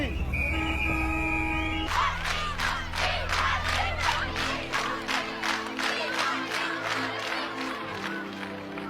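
A large crowd in Pakistan cheers and chants for cricket hero Imran Khan in loud rhythmic bursts, rising after a horn-like tone at the start and carrying on steadily.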